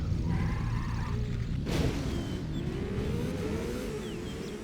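A Porsche 911 engine in the racing game Need for Speed: Porsche 2000 on PlayStation roars past, with a sudden whooshing surge midway and then a rising, steady engine drone that carries on without speech.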